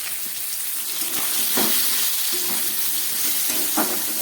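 Potato, eggplant and pumpkin fry with spices in hot oil, making a steady, moderately loud sizzling hiss with a few brief stirring bursts. No one talks.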